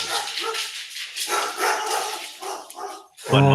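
A dog barks several times in quick succession, loud and close, with a short whimpering yelp at the end.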